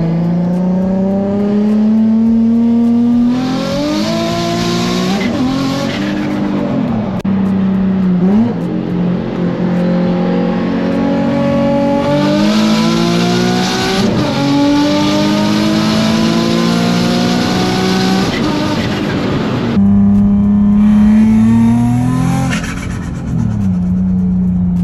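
A Nissan 350Z's exhaust roars as the engine revs and accelerates repeatedly, pitch climbing and dropping through several pulls, loud and close with a raspy tone and no speech.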